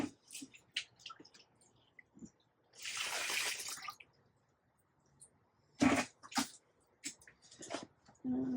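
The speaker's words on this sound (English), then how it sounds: "I'm just dumping some water in here" Water poured into seed starting mix in a prep tray, a loud, brief gush of splashing in the middle, with scattered quieter drips and squishes before and after.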